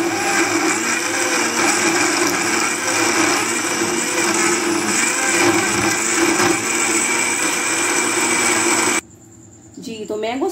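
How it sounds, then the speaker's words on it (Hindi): Blender grinding a mango smoothie with ice, a loud steady whirring roar that runs for about nine seconds, then cuts out abruptly, leaving quieter room sound and a brief voice. "तो अब हम इसको चॉप कर लेते हैं, इसको हम ग्राइंड कर लेते हैं"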